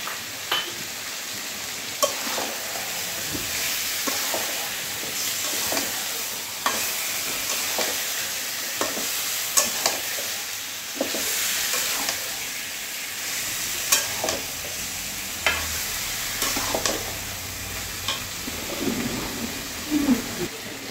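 Chicken kosha with whipped sour yogurt cooks in a pan, a steady soft sizzle broken by repeated sharp scrapes and taps of a spatula being stirred through, moderately close and with no talking.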